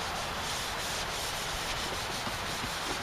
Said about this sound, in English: I'm not really sure how much rubbing you're supposed to do, but maybe it'll shine up.